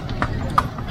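A kalesa horse's hooves clip-clop on pavement in a few sharp, evenly spaced strikes, close by, with people talking over them.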